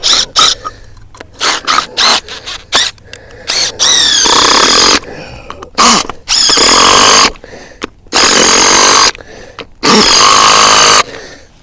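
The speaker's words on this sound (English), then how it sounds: "we're going to drill these down" A power drill drives pegs into a 3D-printed mast base in a series of loud, close bursts, several short whirs followed by four longer drilling runs separated by pauses.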